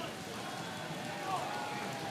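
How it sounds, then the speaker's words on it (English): Heavy rain pouring down during a baseball game, a dense, continuous roar of downpour with a faint voice underneath. "It is raining harder than it's rained all night."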